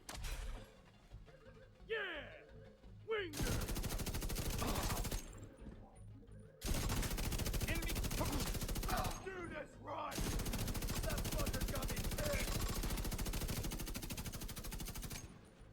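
Bullet King light machine gun in The Division 2 firing long, dense automatic bursts, loud and close, with short pauses between sustained strings of shots and some faint background game sounds.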